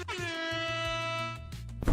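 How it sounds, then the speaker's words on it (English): A blaring air horn sound effect on a game livestream, one long sustained horn blast followed by a shorter burst, loud and alone without talk. "And round of applause and an air horn for you."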